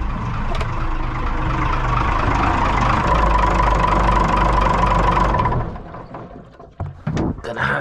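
A boat's engine runs loud and steady just after starting, a rough rumbling idle with a knocking beat that cuts off abruptly near the end, leaving clanks and handling noises.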